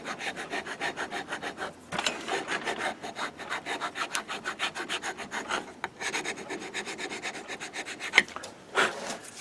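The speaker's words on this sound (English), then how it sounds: "very carefully take a file and a bastard file, works better, and just very carefully clean up the routing on the insert" A bastard file scrapes steadily back and forth over the insert routing of a persimmon wood golf club head, a dry rhythmic rasping of repeated strokes with brief pauses, close and alone.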